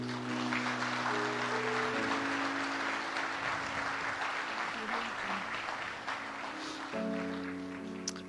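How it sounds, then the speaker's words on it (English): An audience at a Bangladesh investment summit applauds honored guests, sustained clapping over a steady hum of a sound system, easing slightly toward the end. "Let's give another big applause for them."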